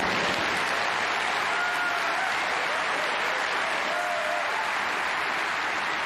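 A snooker crowd at the German Masters semi-final bursts into sustained, dense applause for a big shot, steady and loud throughout the hall.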